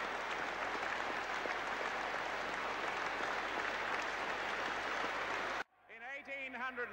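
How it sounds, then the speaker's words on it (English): Sustained applause from a standing cricket crowd at the MCG during the 1977 Centenary Test, a broad steady wash of clapping and cheering that cuts off abruptly near the end, followed by someone talking. "let's let the applause speak for itself."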